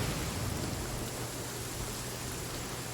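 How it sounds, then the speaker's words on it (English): Steady rain falling in the Genshin Impact video game, a dense, even wash of noise with a low rumble underneath, continuous and fairly close, with no voices. "It's raining. Raining. Now my uniform will get all wet."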